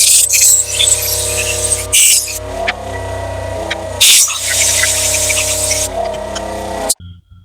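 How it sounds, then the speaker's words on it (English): Compressed air blown through a stripped carburetor float chamber from a 1999 Yamaha 900S Diversion, heard as loud, harsh hissing bursts that start and stop several times, with a steady low hum underneath and a sudden cutoff at the end. "I'm just going to blow it out with a bit of compressed air."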